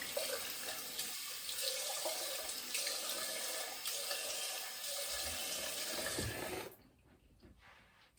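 Water gushes steadily from a tap for several seconds, loud and close, then shuts off abruptly, leaving a quiet room.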